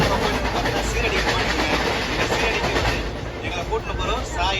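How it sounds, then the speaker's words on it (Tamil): A passenger train departing Egmore rolls along with a steady rumble and rhythmic clatter, close and loud throughout, with voices talking over it. "எக்மூர்லேருந்து ட்ரெயின் ஓகே மூவ் ஆகிடுச்சு."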